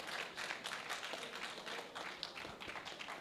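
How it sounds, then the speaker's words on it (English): Audience clapping at an agroecology week event in Uganda, a steady, moderately distant patter of many hands lasting a few seconds without a clear break. "Let's clap for the board chair."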